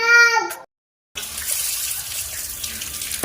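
Water gushes steadily into a pot of cooking curry with cauliflower and potato, after a brief clatter and a short silence, a close, continuous splashing pour.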